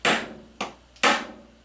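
A hand hammer taps a decapping tool to knock the primer out of a spent rifle cartridge case during reloading: three sharp, close metallic strikes in about a second and a half, each ringing briefly, with no talking.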